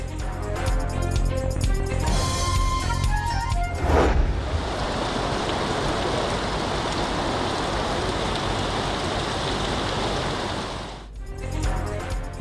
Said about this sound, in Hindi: कराची में मूसलाधार बारिशों का नया राउंड, शहर के बेशतर इलाकों में जम के बादल बरस पड़े।